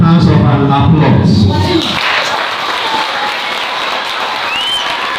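An audience at an entrepreneurship talk breaks into applause to welcome a guest speaker, rising from under a brief stretch of a voice into a steady wash of crowd clapping and cheering.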